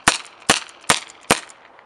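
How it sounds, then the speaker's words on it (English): A gold Dan Wesson CO2 airsoft revolver fires four sharp, evenly spaced shots in quick succession, each a crisp snapping crack with a brief tail, close and clear with no talk. "we'll just fire off this last bit"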